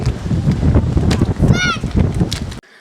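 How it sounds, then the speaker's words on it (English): Gusty wind buffets the microphone with a steady low rumble at Lyme Park while people talk throughout, and a brief high whistle rises near the middle. "But it is super windy."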